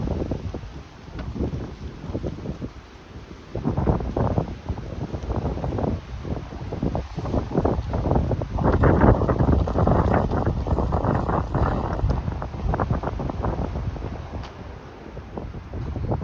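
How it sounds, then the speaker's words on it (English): Strong wind roars and buffets the microphone in gusts, swelling and easing throughout with a low rumbling roar. "It's very windy."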